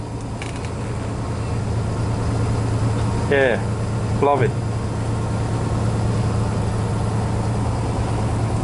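A restored 1964 Volkswagen split-window bus engine idles low and steady in the background, quiet and even, while people talk briefly over it.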